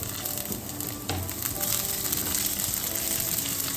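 Garlic, onions and chilies sizzle steadily in hot oil in a pan for an amaranth stir fry, a dense continuous frying hiss with a brief stir clatter near the start and no talk.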